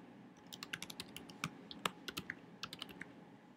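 Quick, light keystrokes patter on a computer keyboard in an irregular burst as an email address is typed in a quiet room.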